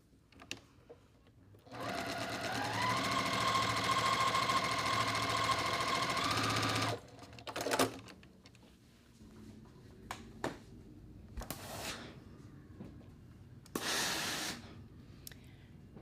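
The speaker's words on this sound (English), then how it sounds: "I'm just going to sew this, come back and add this." A sewing machine stitches a seam in one steady whirring run of about five seconds, close and loud, followed by clicks, fabric handling and brief bursts of machine noise.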